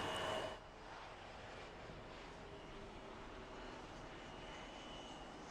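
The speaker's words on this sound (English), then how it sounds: "Next arrival is a CRJ. And it's looks like it's an Air Canada." An Air Canada CRJ jet arrives at Toronto Pearson airport with a faint, distant, steady engine rumble and whine, after a brief louder burst at the very start, and no talk over it.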